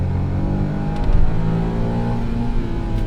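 Turbocharged engine of a Honda S660 Modulo X revving past 5,000 RPM in second gear, a steady, close, buzzing whine that holds fairly level for a few seconds, with no talking.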